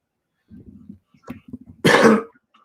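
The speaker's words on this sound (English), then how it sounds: "I'm just having a little coughing fit here." A few muffled throat sounds build into one loud, harsh cough burst near the end, close to the mic with no talking.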